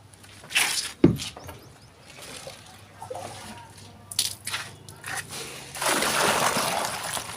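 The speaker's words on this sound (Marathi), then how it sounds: "हे बघा असं त्याच्यात पाणी टाकावं लागते मग त्याच्यानंतर धुवावं लागते असं." Water poured over cut jackfruit pieces in a vessel as they are washed by hand, with a sharp knock, sloshing and splashing bursts and a longer rushing pour near the end.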